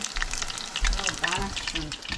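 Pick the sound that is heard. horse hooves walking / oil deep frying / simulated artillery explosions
oil deep frying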